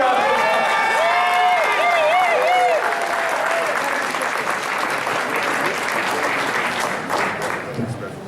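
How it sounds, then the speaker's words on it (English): Loud sustained applause with cheering from a crowd at a caucus meeting welcoming a state senator, voices calling out over the clapping before it slowly fades. "Give him a round of applause."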